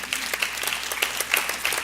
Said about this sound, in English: That's a good applause.